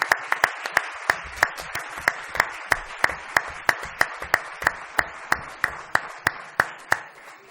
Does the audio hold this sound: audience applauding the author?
yes